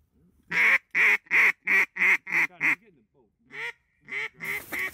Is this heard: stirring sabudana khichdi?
no